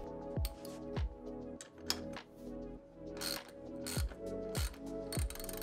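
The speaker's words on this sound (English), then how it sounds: "To adjust the angle, use a hand ratchet and a 14mm socket to loosen the bolts on either side of the saddle" Hand ratchet with a 14mm socket loosening the saddle rail bolts on a Lectric XPeak e-bike, giving repeated sharp clicking bursts in a steady rhythm of strokes, close and alone with no talk.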